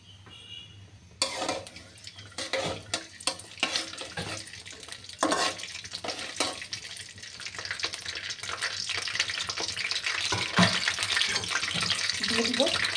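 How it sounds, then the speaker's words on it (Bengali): Whole spices including cardamom fry in oil in a pan, with intermittent scraping and clattering stirs building into a louder, steady rushing sizzle toward the end. "এক মিনিট ভেজে নেব।"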